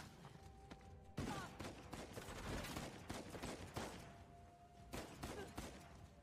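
Rapid bursts of gunfire crackle in quick succession with a few heavy thuds, sustained throughout at moderate loudness, with faint voices underneath, in the video game Uncharted: The Lost Legacy.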